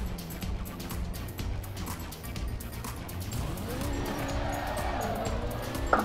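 A car spins out in the Assetto Corsa racing game, its engine droning steadily while the tires squeal and skid, rising in pitch toward the end. The sound is continuous and fairly loud.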